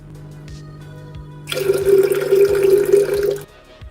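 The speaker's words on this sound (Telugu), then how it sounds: "ఇప్పుడు దీంట్లో మనం వాటర్ని యాడ్ చేసుకుందాం" Water pours steadily into a buttermilk mixture for about two seconds, a close splashing gush over a low background hum, then stops.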